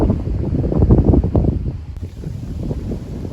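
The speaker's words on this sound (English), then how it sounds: "Getting windy, as you see" Gusty wind on a golf course buffets the microphone in low, uneven rumbling bursts, loud and close, with no voices.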